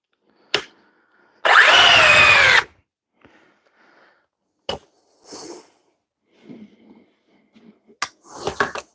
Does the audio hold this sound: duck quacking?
no